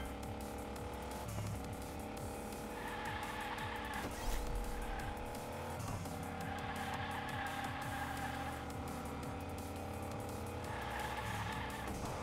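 Hot Wheels Unleashed racing game: a toy-style race car's engine revs and drones while tires squeal through long drifts, continuous and loud with repeated skids and no talking.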